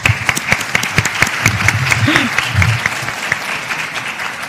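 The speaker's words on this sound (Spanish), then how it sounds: "vamos a darle un aplauso" Audience applause at a Spanish-language panel on freedom of expression, electoral reform and political debate, with sharp individual claps building into sustained clapping while a voice speaks briefly underneath.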